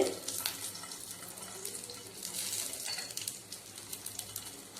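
Garlic with cardamom fries in hot oil for moringa pulav, a soft, continuous hiss and crackle at low volume with no talking.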